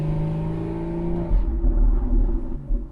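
A Porsche Boxster 981 with an FVD Stage 1 tune accelerates in second gear. The loud engine drones with strong tones, then drops to a heavier, deeper rumble partway through, close and continuous.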